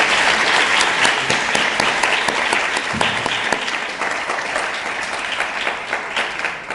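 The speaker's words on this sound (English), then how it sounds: "Could we please give him another round of applause?" Another round of applause from a lecture audience after a talk on immigration and refugee issues, dense sustained clapping that starts loud and slowly thins and softens toward the end.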